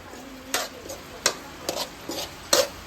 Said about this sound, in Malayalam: ഞാൻ നല്ല രീതിയിൽ ഒന്ന് ഇളക്കാന്ന് കരുതി